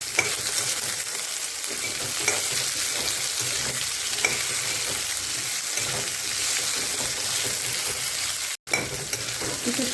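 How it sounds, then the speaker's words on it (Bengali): Boiled potatoes and jackfruit seeds frying with cumin and dried red chillies in hot oil, giving a steady close sizzle with stirring and scraping throughout and a brief break near the end. "এখন এর ভিতরে আলু আর এই কাঁঠালের বীজ সিদ্ধ এগুলো দিয়ে দেবো। এখন এটা একটু সময় ভেজে নেব।"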